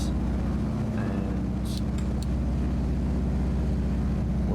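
A Carenado Cessna 195 taxiing in Microsoft Flight Simulator, with a steady low droning engine rumble and a few brief light clicks over the top, no voices.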